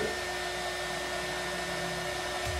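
A heat gun blowing steadily on glue while custom wine glasses are being made, a loud continuous whooshing whine held close and unbroken, with no talking.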